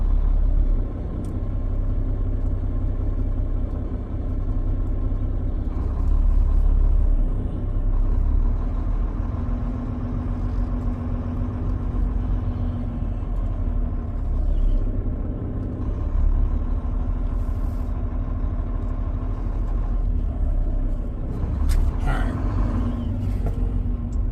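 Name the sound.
truck backing up into a parking spot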